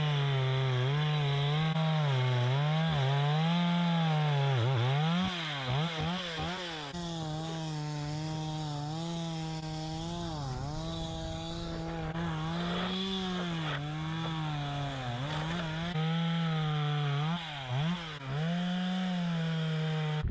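A petrol chainsaw runs continuously at high revs while cutting blocks of river ice in Yakutia, loud and close, its engine pitch wavering and dipping as the bar bites and eases through the ice.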